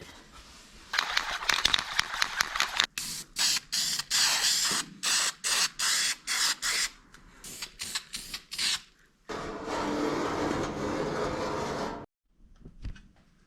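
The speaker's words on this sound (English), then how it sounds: "I'll grab some spray paint and start spraying that other tank" Bursts of aerosol spray hiss in short rhythmic passes over a car fuel tank for a Datsun S30, then a longer continuous spray, close and loud with brief pauses between strokes.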